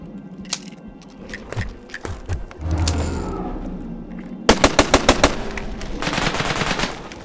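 Rapid gunfire from a rattlesnake gun in the video game Falsepine: a loose burst of sharp reports early on, then a dense run of about seven loud, evenly spaced shots near the end, with no talking.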